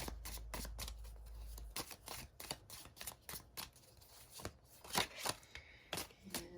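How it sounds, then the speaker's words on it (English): A large tarot deck being shuffled by hand, a rapid run of crisp card flicks and riffles followed by irregular slaps and rustles, close and quiet with no talking. "let's give a shuffle."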